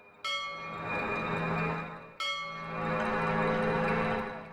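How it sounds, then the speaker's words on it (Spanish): Two deep church bell strikes ring out a couple of seconds apart, each tolling note swelling and sustaining with a rich, lingering hum. "el triste y monótono doblar de las campanas"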